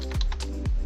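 Keys clacking on a computer keyboard as a camera name is typed while setting up a Dahua IP PoE camera, a quick close run of taps with no talking.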